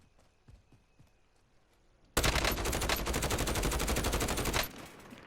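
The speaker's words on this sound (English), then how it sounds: "I quickly see that there's shooting on the map" Rapid automatic gunfire from Call of Duty Warzone, Stimulus Solos mode with Grau and MP5 loadout, bursts in loud and sustained for about two and a half seconds after quieter sparse shots, then cuts off.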